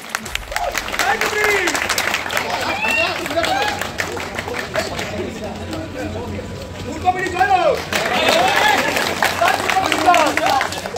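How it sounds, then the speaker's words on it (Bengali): Audience at a Jadavpur University New Boys Hostel Block Day final night event in 2024 claps and cheers in a loud, sustained burst, dipping briefly midway before rising again, with crowd voices mixed in. "রিকের জন্য একটু বেশি জোরে হাততালি চাই কিন্তু"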